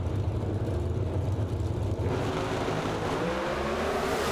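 An NHRA drag racing car engine roars continuously at close range, loud and rough, its tone brightening midway as it revs harder.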